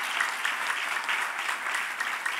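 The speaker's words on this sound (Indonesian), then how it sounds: "berikan tepuk tangan bagi Tuhan kita Yesus Kristus." Congregation applause during a church worship service, a steady dense wash of many hands clapping together for the full stretch, moderately loud and even, with no talking over it.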